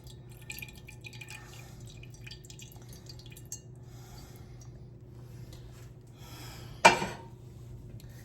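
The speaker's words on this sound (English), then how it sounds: "I'm gonna drain as much pineapple juice off as possible." Juice draining from canned pineapple, heard as faint, scattered drips in a quiet room, followed by one short louder splash near the end.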